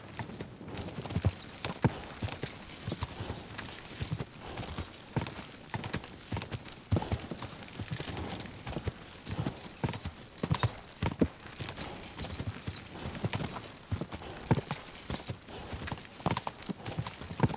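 Horse hooves clip-clopping at a steady gallop in the medieval game Kingdom Come: Deliverance II, loud and continuous throughout, with a brief snort or whinny and faint voices.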